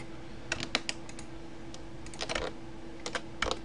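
Computer keyboard and mouse clicks while control-clicking edges in 3D modeling software, several bursts of quick close taps separated by short pauses over a faint steady hum.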